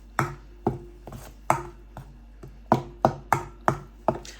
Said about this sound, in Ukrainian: І перемішую ложкою.